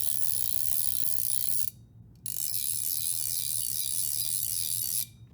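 An Orvis CFO III fly reel's click pawl ratchets in a fast, even, continuous buzz, loud and close, pausing briefly once before the line pulls out again.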